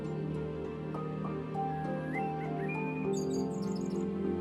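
Soft bird chirps and short tweeting calls in the video game Nevermind, faint and sparse over a low steady ambient drone, with a quick flurry of high chirps near the end.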